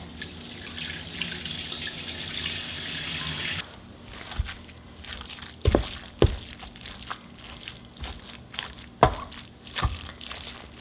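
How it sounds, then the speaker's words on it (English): Hot rendered pork fat, lard, pours steadily into a container, a soft liquid stream with scattered clinks and drips near the mic, no talk. "So I'm gonna start carefully pouring this"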